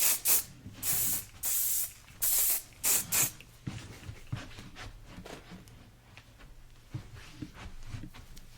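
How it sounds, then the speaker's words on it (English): Hair spray hisses from a can onto sections of teased 1980s-style hair, several close sharp bursts in quick succession, followed by softer rustling and handling of the hair. "I'm going to spray those two sections over there"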